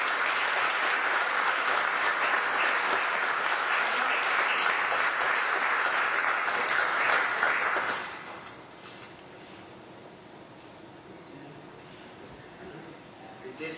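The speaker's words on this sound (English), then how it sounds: "please give a big round of applause" An audience applauds at a certificate presentation for a community group, a dense, steady round of clapping that lasts about eight seconds before dying down to faint room noise and scattered claps.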